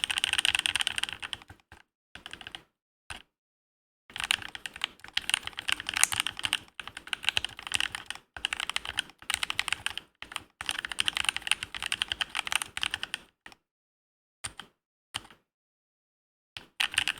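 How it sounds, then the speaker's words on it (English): An ortholinear mechanical keyboard with an all-acrylic case clacks in quick bursts of typing, close and crisp, broken by short silent pauses. "Takes a little bit to get used to typing on this since the keys are right above and below each other, since it's ortholinear."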